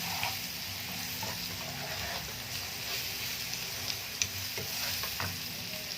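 Zucchini seasoned with salt and pepper is stirred in an oil-slicked pan, giving a soft continuous sizzle with scattered scraping and clinking of the utensil.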